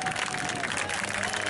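Spectators at a car race in Patra applaud, a dense wash of clapping and crowd noise throughout, loud and steady with no pauses.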